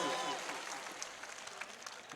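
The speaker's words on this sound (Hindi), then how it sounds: "एक बार ताली बजा के मुझे बताएं, आप कब सम्मेलन को स्टार्ट कर रहे हैं?" Audience at a Hindi comedy poetry gathering applauds in a dense, steady burst of many hands, loud and close, easing slightly toward the end.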